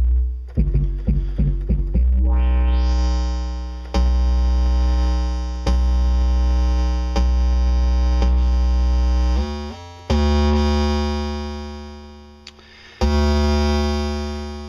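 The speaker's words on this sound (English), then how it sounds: "it's kind of a distortion effect, so check it out" A sustained, buzzing distortion tone from a Novation Bass Station 2 synthesizer, thick distorted harmonics, played as held notes that change pitch every couple of seconds, loud and alone.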